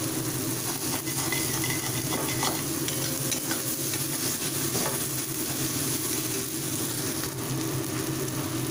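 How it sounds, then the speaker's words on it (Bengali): Food fries in a pan with a continuous loud sizzle while a utensil stirs and scrapes through it, steady throughout with no talking. "এবার একটু ভালোভাবে ফ্রাই করে দেবো"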